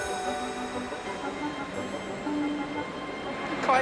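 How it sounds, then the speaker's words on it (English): A wedding train pulls into Paddington station: a steady low rumble with faint tonal squeals, ending in a sharper screech at the close, with no talking. "It's 5 minutes late, but the first wedding train is on its way."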